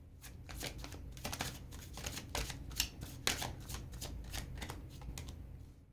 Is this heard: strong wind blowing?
no